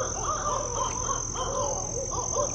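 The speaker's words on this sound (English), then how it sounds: "Then the owl started going ballistic and woke him up." A barred owl calls loudly in an Everglades swamp, a series of hooting, cackling notes repeating over a steady high insect drone.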